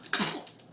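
A single short, sharp sneeze bursts out close by, followed by a brief breathy trail.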